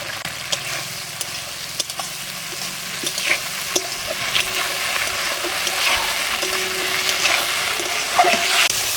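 Slit green chillies dropped into hot oil for a mrigal fish curry, giving a steady, loud sizzle and crackle with occasional sharp pops and faint stirring, close up and without talk.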